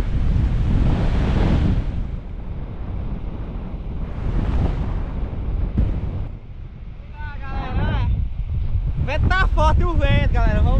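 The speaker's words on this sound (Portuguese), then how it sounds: "E vento, tá ventando demais, rapaz. O vento tá aí." Strong wind buffets the microphone in a steady roar while a raft sail is tested at the shore, with surf noise underneath and someone talking over the gusts near the end.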